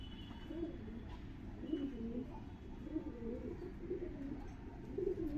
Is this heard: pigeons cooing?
yes